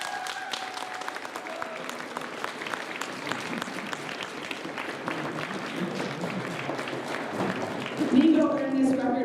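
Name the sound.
audience applause at a record ceremony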